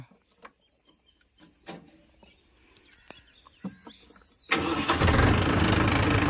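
A Mahindra Yuvo 585 tractor engine starting: a few faint clicks and knocks, then the diesel catches and runs loud and steady close by.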